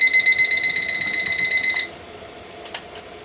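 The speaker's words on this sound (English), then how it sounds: "Let's turn the alarm off." A battery-powered alarm clock rings with a loud, shrill, rapidly pulsing electronic beep for nearly two seconds, then stops abruptly, leaving a quiet room with a single faint click.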